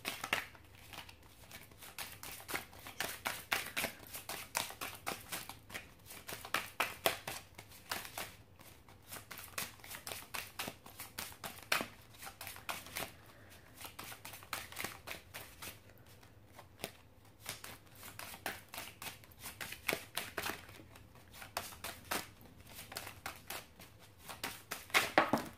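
A deck of tarot cards is shuffled and handled close by in a long, continuous run of dense riffling and papery flicks, with brief pauses between bursts.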